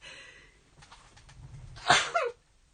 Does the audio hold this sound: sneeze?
yes